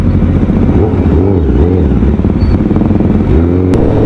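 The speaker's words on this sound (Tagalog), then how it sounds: "Lutong ng motor ni Kuya Itoy" A motorcycle on a group year-end ride through heavy traffic, its engine loud and close with a rumbling, crackling exhaust note that rises and falls with throttle changes.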